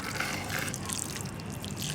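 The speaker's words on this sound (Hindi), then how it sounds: "थोड़ा सा पानी डाल लेते हैं" A little water poured into a dry plant pot for growing coleus, a short soft trickle and splash with faint dripping, close and quiet.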